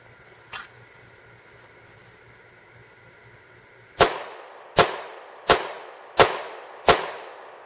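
Five sharp 9mm Civil Defense gunshots strike a bulletproof vest, loud distinct cracks spaced under a second apart after a quiet pause with one faint click, each followed by a short decaying echo outdoors.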